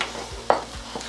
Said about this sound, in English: So you just keep stirring it like that, churning it